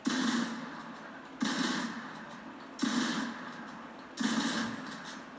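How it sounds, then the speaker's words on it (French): Double-shot pump shotgun firing in the Fortnite video game, four loud evenly spaced blasts roughly every second and a half, each with a short decaying tail, no voices. "Donc ouais, le pompe à 2 coups, un peu différent."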